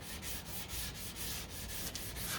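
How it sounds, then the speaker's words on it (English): Body filler being sanded on the deck lid of a 1969 Corvette, a soft steady scratchy rubbing with rhythmic back-and-forth strokes, close and fairly quiet. "this stuff, like I said, sands down pretty good."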